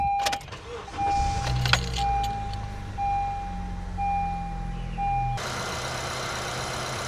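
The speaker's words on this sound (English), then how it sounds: "let's go inside and turn on the car." A 2013 Honda Civic with a 1.8L engine idles steadily after starting, its low engine drone running alone and close by, with a short mechanical burst near the start and a quick shift in tone toward the end.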